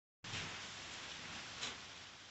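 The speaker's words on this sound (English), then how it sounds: "it's started raining again. You can probably hear it hitting the roof more than anything." Steady rain pattering on a barn roof, a dense continuous hiss that starts abruptly and holds at an even level, with a brief louder gust near the end.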